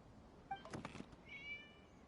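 An in-game cat meows in Genshin Impact, a brief, moderately close cry followed by a softer trailing mew against quiet ambient game sound.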